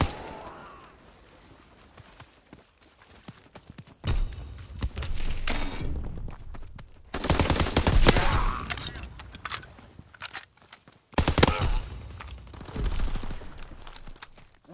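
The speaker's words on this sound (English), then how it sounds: "Fighter pilot inbound, strafing the target." Strafing-run gunfire in the Call of Duty: WWII video game, with loud bursts of rapid automatic fire and crackling impacts arriving in several waves, separated by quieter stretches of battle noise.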